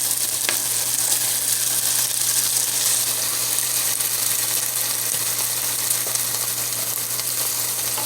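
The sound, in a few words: chorizo and seasoned potatoes frying and being stirred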